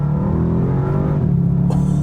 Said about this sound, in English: I love the sound of this V8. It's absolutely just sonorous. And you pull the paddle here, it just blips the throttle.